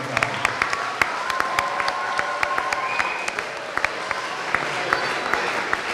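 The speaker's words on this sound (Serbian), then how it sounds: "Lijepo vas molim jedan veliki aplauz za Franju i za sve djelatnike" A room of people applauding Franjo Arapović and the staff at a Croatian school sports federation press conference, steady clapping close by with sharp individual claps standing out.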